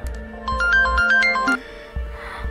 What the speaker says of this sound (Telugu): నేను చేసిన ఫోన్ కాల్